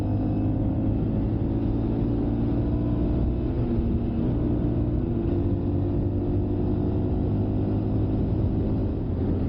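A 2023 Honda Monkey motorcycle cruises in fifth gear around 45 mph on an open road, its small engine humming in a steady, even drone mixed with wind rush.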